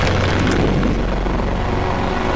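Hydro Cannon attack from a video game, a thick, steady roaring blast of rushing water and low rumble that holds at full strength for about two seconds with no voices.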